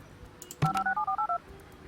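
A telephone line dials in the Project Highrise building-management game: a short click, then a quick run of about eight clean touch-tone beeps, close and alone.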